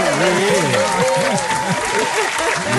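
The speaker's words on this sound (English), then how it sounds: "I'm about to give you some claps" Audience applause at an event, loud continuous clapping with crowd noise while a voice talks over it the whole time.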